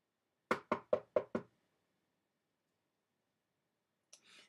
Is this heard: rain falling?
no